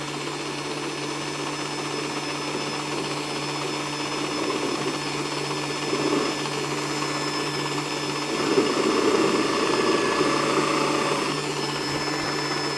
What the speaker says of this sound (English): Let's drill the first hole.